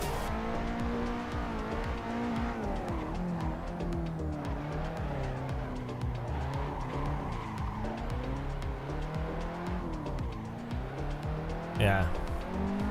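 Drift car tire squeal from the Assetto Corsa Evo racing game, a continuous wavering screech over a droning engine that runs the whole stretch, with a voice talking over it.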